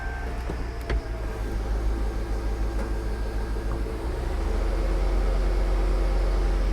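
A Chevrolet Tahoe pulls away in drive after a brake job, with a steady low engine and road rumble inside the cabin that swells slightly toward the end and no talking.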